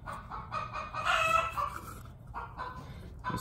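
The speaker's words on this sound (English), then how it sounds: "Those chickens are being noisy today." Chickens clucking with a rooster crowing in the middle, fairly close and loud, over a low background rumble, in a work area during repair of a Kawasaki Mule 2510 fan switch.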